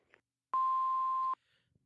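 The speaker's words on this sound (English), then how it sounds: "Please leave a message after the beep." A single steady electronic answering-machine beep, clean and sustained for just under a second, sounds alone in otherwise near silence.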